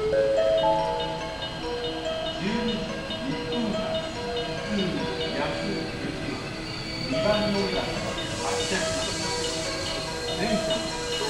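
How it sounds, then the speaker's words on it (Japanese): JR West 223 series 2000 local train arriving at Otsu station, a continuous rumble with wheel hiss and squeal under platform announcements. "3番乗り場に電車が参ります。"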